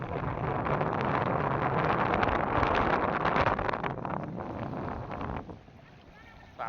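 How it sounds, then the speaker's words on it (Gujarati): Cold wind blows by the sea near Mahuva, a strong, steady roar of gusts buffeting the microphone that eases toward the end, with faint voices underneath. "ઠંડો પવન બહુ આવે છે."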